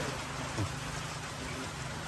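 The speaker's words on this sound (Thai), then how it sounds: "เวลาฝนมาเนี่ยมันสาดมาให้เนี่ยนะ" Steady rain pours and splashes into a house built of wooden boards with a corrugated metal roof, a faint continuous hiss with no voices.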